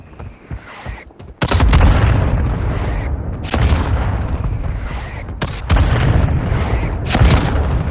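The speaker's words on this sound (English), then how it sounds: "Mortar strike inbound now." Mortar strike explosions in the Warzone Mobile game: four heavy booms land one after another a couple of seconds apart, each followed by a loud rumbling tail, after a quieter lead-in.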